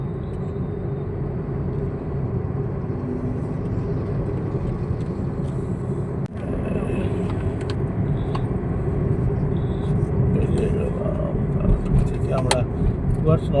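A car travels on a road from Kolkata toward Rampurhat, giving a steady low engine and road rumble throughout, with a brief dip near the middle and faint higher noises toward the end.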